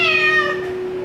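An injured male cat at a veterinary clinic lets out one loud, drawn-out meow that trails off, close up and alone.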